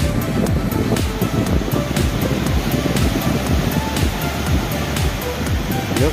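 Surf and wind roar continuously at a beach in Quy Nhon, Binh Dinh, Vietnam, the breaking waves loud and close with gusts buffeting the microphone.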